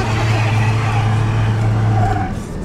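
A Subaru BRAT converted to electric power accelerates past, heard from outside the vehicle as a loud, steady drone with a low hum that eases off slightly near the end.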